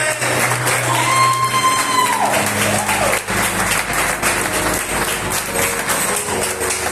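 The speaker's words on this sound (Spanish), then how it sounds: "Dale un aplauso a aquel que viene. Hácelo fuerte, hácelo fuerte." A church congregation claps loudly and steadily through the whole stretch, with music tones and voices mixed underneath the applause.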